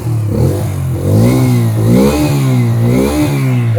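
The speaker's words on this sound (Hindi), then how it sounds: "राइडिंग के वक्त आपको पता चलेगा कि आवाज़ कुछ ऐसा आता है जिससे आपको थोड़ा सा डर लगे कि ये CNG बाइक है" Bajaj Freedom 125 CNG motorcycle engine revving steadily up and down, a loud, close, continuous mid-pitched drone with rising and falling pitch and no talk.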